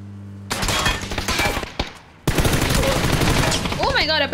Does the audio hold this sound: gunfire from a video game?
yes